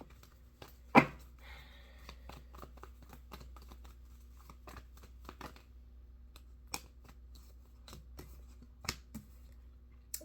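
Tarot cards, some stuck together, are shuffled and handled close by, giving a quiet run of crisp ticks and riffling snaps with one sharp louder slap near the start, and no talking.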